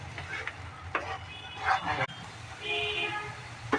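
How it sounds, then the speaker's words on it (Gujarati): Milk and coconut mixture for barfi is stirred in a pan with cardamom powder added, giving a continuous scraping, bubbling sizzle with intermittent spoon strokes, close and moderately loud, with no talking. "મિક્સ કરી લઈશું બરાબર। જ્યાં સુધી દૂધ બળી ના જાય ત્યાં સુધી આપણે એને મિક્સ કરીશું બરાબર।"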